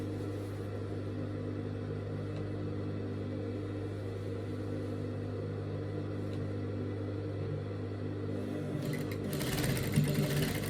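A sewing machine hums steadily and fairly quietly as it stitches a dress side seam beneath the belt, the motor running without pause for about ten seconds, with slight handling noise near the end.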